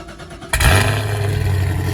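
A 6th-generation Chevrolet Camaro engine cranks and fires up halfway through, then settles into a loud, steady, deep idle rumble close by after a quiet start.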